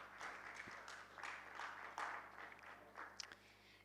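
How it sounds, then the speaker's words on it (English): Scattered audience clapping at a conference session, faint and uneven with individual claps standing out, rising and fading over a few seconds. "Please give them a round of applause."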